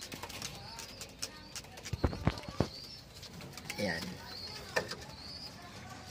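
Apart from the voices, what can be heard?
pet pigeons cooing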